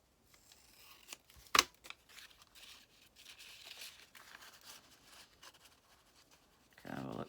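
Paper or card being trimmed with scissors at a craft table, quiet snips and crisp cutting rustles with one sharp louder snip near the start, close and alone.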